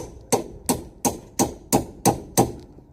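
A lump hammer strikes a ratchet on the front hub of a Ford Falcon, seven sharp metallic blows at a steady rhythm, close and loud with no talking.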